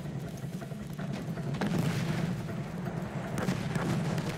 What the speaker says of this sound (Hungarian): Artillery fire ordered to cover retreat to beach, shelling the village and outlying forts.